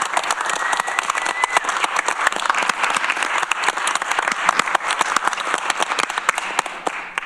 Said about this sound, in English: But if we could just give Rob a quick clap.